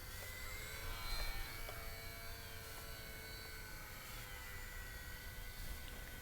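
An EMCH12 Champ RC airplane flies with a thin, steady electric motor buzz at moderate throttle, held at a constant distance over outdoor background noise.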